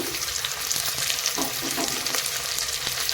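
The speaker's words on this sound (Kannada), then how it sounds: "ಇದನ್ನು ಮಿಕ್ಸ್ ಮಾಡ್ತೀನಿ ಎಣ್ಣೆಯಲ್ಲಿ ನಾವು ಫ್ರೈ ಮಾಡಬೇಕಾಗುತ್ತೆ ಇದನ್ನು" Sliced onion, carrot, beans and potato fry in oil for veg pulao, giving a steady close sizzle broken by scraping stirs, with no voices.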